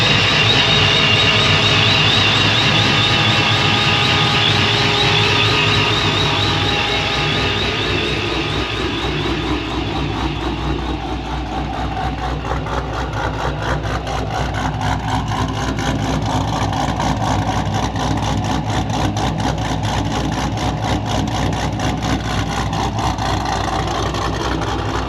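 A boosted Pontiac GTO engine idles while warming up, a loud steady rumble with a faint rhythmic lope, close to the car and continuous for the whole stretch without talk.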